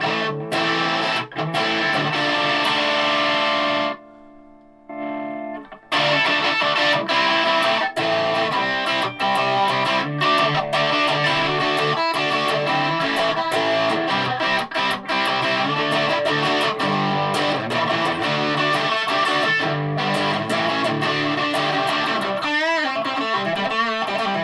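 Heavily distorted electric guitar chords through a cheap budget distortion pedal ring out loud and sustained, broken by a brief near-silent gap, then continuing with gritty, saturated strumming.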